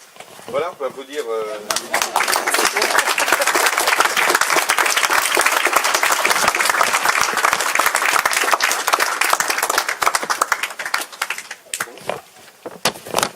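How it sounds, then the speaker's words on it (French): An audience applauds at the launch of the Cité des Outre-mer in Paris, starting with a brief voice, then swelling into loud, dense, sustained clapping for about ten seconds before thinning out toward the end. "Voilà, on peut applaudir."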